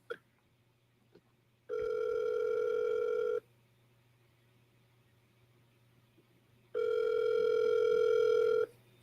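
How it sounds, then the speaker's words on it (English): An outgoing telephone call rings back through the line, two long electronic ring tones of a couple of seconds each separated by a quiet gap, steady and clear over a low background hum. "See, it's ringing now."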